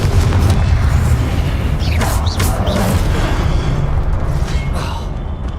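A Confringo blasting spell explodes in the video game Hogwarts Legacy, a loud, dense booming blast with rumbling low end and crackling debris, followed by sustained heavy combat noise and a couple of sharp whooshing bursts.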